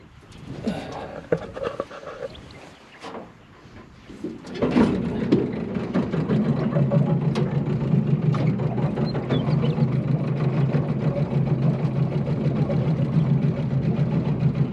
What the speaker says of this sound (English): We might start the engine and see if we can get in a bit closer.